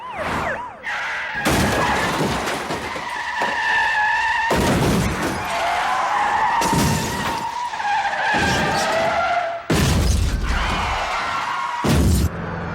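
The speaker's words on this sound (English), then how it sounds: "massive amounts of car destruction" Cars from the 1974 film Gone in 60 Seconds skid and crash in loud, repeated bursts of tire squeal, impacts and shattering metal and glass, with engines roaring between the hits.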